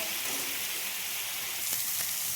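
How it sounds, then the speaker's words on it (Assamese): Ingredients for chicken curry fry in a pan, producing a soft, constant sizzling hiss with a couple of faint stirring clicks near the end. "এইখিনি মই অলপ সময় ভালদৰে ভাজি লৈছোঁ"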